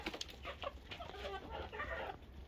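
Chickens clucking on a farm while laying eggs, several soft overlapping clucks close by with steady background hum and no speech.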